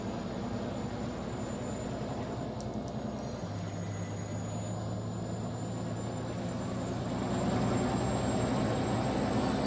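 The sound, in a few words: Mack truck turbos spooling up in Farming Simulator 19 video game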